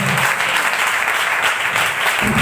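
A church congregation claps loudly in praise, producing a thick, continuous roar of many hands that stays strong throughout, with a brief low murmur of voices near the start and end.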